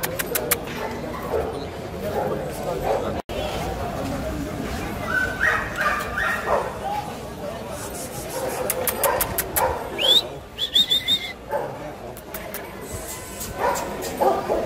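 Dogs bark and whimper amid the bustle of a Friday street market in Alexandria, with bird calls and pigeon coos mixed in; sharp yips stand out over the steady crowd noise.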